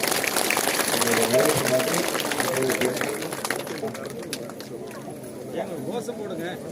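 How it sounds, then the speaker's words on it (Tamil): Crowd applause at a farmers' protest near the SIPCOT site in Melma, Cheyyar, Tiruvannamalai district, a dense wash of clapping mixed with voices and chatter that gradually thins out. "எல்லாருமே ஒரு கரகோஷம் எழுப்பி வாழ்த்து"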